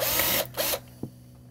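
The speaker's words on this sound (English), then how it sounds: "I'm going to drill a corner of these cutout" A power drill bores the corner of a cutout for RV wiring in a 12-volt DC system rebuild, running in two short loud bursts followed by a single sharp click.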